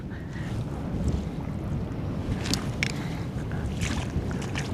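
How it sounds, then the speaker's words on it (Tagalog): Strong wind roaring across an open waterside spot, a constant low rumble buffeting the microphone with occasional sharper gusts, loud and unbroken with no voices. "Dahil sobrang lakas ng hangin ngayon"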